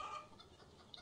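A chicken clucking in the RuneScape video game, a short, faint burst of game audio lasting about a second with a brief cluck near the start and a tiny blip at the end.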